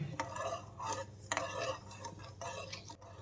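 Sugar syrup for gulab jamun being stirred in a pan over a full gas flame, with soft rhythmic scrapes and clinks of the spoon against the metal.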